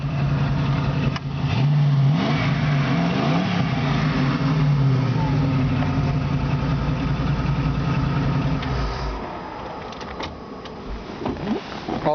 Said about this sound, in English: It's got a nice sounding exhaust.